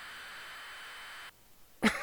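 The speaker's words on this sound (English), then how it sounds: "A little cough in there." A single sharp cough breaks out near the end after a steady hum cuts off, close and fairly loud.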